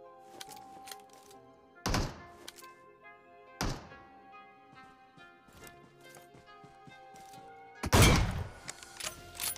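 Gunfire in a mobile battle royale shooter, with sharp, loud shots around 2, 3.6 and 8 seconds standing out over a busy game soundscape of clicks and effects.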